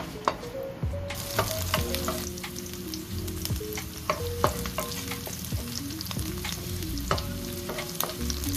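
Onion frying in a pan on its way to golden brown, a steady close sizzle with repeated sharp clinks and scrapes of a utensil stirring through it, no voices.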